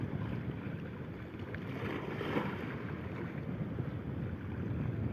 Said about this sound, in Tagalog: tsaka malakas ang hangin.